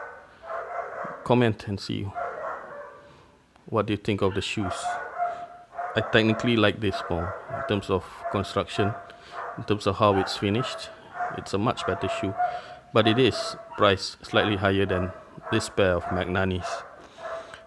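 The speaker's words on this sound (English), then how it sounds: "I do apologize for the dogs barking" Dogs barking repeatedly in the background of a room, sharp intermittent barks beneath someone talking steadily throughout.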